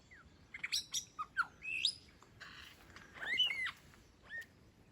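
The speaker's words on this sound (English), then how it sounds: "It's actually a lyrebird, I think." A lyrebird sings a varied run of sharp chirps, whistles and rapid trills in quick bursts, fairly clear against a quiet outdoor background in the Dandenong Ranges forest, near water.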